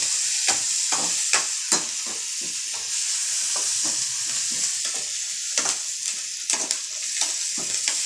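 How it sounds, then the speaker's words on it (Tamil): Sliced onions sauté and sizzle in a pan for a snake gourd stir-fry (poriyal), a steady frying hiss broken by repeated scraping stirs of a spoon, close and clear with no talking. "நல்லா வதக்கிக்கிறாப்புல."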